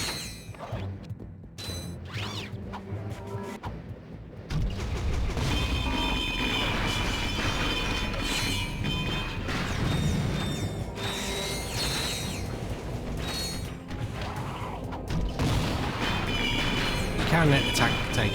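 In the video game Ratchet and Clank 2 on Planet Dobbo, a wrench strikes robot enemies, with repeated metallic whacks and mechanical clanks over busy game music and effects, and someone talking throughout.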